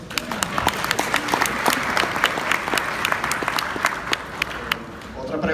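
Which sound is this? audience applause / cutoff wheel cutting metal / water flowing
audience applause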